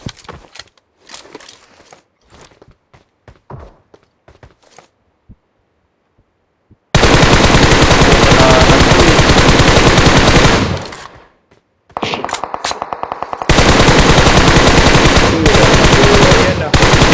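Machine gun fire in a video game: after several seconds of scattered quiet clicks and thumps, loud sustained automatic bursts roar for about four seconds, break briefly, then resume in long dense volleys.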